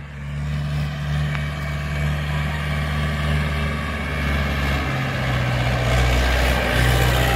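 Mahindra 475 DI tractor running at speed across a farm field, its diesel engine giving a steady, loud drone with a low throbbing hum that builds gradually, no voices over it.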